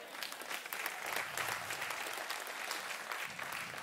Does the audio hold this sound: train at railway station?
no